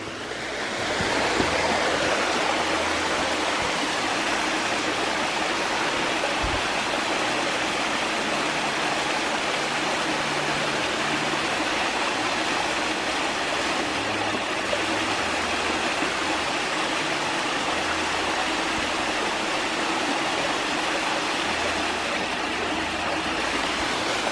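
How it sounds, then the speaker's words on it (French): Steady, loud rushing water from a waterfall on the Uzkaingo Erreka stream near Ascain in the French Pyrenees pours continuously with no letup, a broad roaring wash heard up close. "Et on arrive à la jolie cascade."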